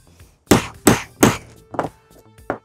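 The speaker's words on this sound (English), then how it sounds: "Okay, I need to hammer mine a little harder." Three hard hammer strikes in quick rhythm on a grommet setting tool, followed by two softer knocks, ringing and close, no voices.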